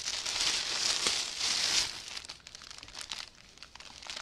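Plastic packaging of a large cross-stitch kit crinkles and rustles loudly and continuously up close, with sharper crackles in the second half and no talking.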